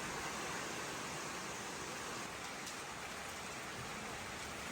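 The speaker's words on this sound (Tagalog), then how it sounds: "Sinabayan pa ng ulan" Rain falls in a steady, broadband hiss, close and even throughout with no pauses, and no voices over it.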